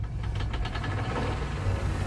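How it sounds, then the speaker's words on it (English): Engine mounted at the back driving a cable winch up the face of Claerwen dam gives a steady, low, throbbing rumble, moderately loud and unbroken, with no talking. "That's the engine in the back that powers the winch"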